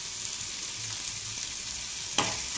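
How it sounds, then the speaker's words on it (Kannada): Onions frying in a small amount of oil (one to two spoons) in a pan, a steady soft sizzle running throughout with a brief louder stir or scrape near the end; no talking. "ಈರುಳ್ಳಿ ಚೆನ್ನಾಗಿ ಫ್ರೈ ಆಗಿ ಸ್ವಲ್ಪ ಉಪ್ಪು ಹಾಕ್ತೀನಿ"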